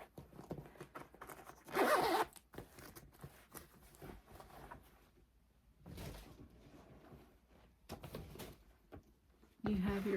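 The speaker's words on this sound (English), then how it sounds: "It has a zip top closure." A zipper on a Tignanello purse's zip top closure is pulled in two or three brisk, raspy strokes with pauses between, close to the microphone, while a person talks softly in the background.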